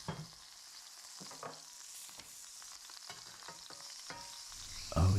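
Soft, steady sizzling of sausage frying in a pan, with faint crackles and a few light clanks of utensils; a louder bump comes at the end.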